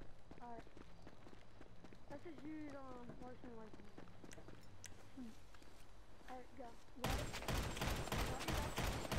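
Shotgun blasts and gunfire in a deathwatch match of a video game, heard as a burst of loud, dense shots near the end, after a stretch of talk over the game's background sounds.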